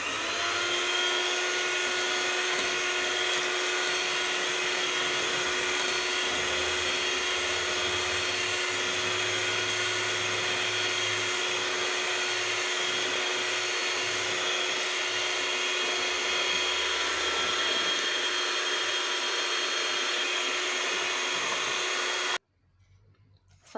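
An electric mixer whips cream, making a steady, loud high-pitched motor whine that runs unbroken for over twenty seconds before cutting off suddenly, with a brief faint rustle afterward.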